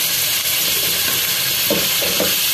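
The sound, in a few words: masala and spices frying in a pot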